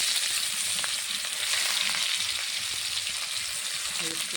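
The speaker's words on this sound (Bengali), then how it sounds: "কড়াইয়ে সরষের তেল দিয়ে দিয়েছি। এখন পেঁয়াজ দিয়ে দিলাম" Onions sizzle and fry in hot mustard oil in a wok, a loud continuous crackling hiss with faint stirring scrapes, no talking over it.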